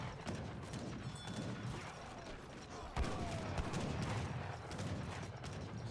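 Gunfire from Gurkha units in an Age of Empires match, a quiet spread of crackling musket-style volleys and clatter that pops repeatedly, with a brief sharper burst midway.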